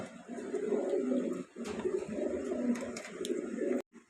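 Pair of Bombay pigeons cooing close by in soft, continuous rounded coos with a brief pause midway, clearly audible and alone without talk.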